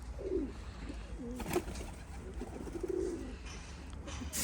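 Pigeons cooing in a coop, a few soft, low, throaty coos spaced apart over quiet background noise, with no speech.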